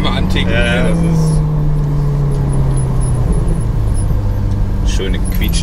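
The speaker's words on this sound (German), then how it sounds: "schöne Quietschen der Bremsen" Brakes on a Ferrari 488 GTB squeal in a short high, whining tone over the car's loud low rumble as it slows, with a steady, close, continuous engine and road drone underneath.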